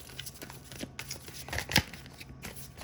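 Tarot cards shuffled by hand at close range, soft rapid riffles and slapping card flicks in irregular bursts, quiet and alone.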